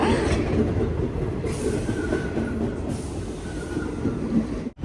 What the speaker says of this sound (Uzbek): To'rtovla metroga o'tirib oldik.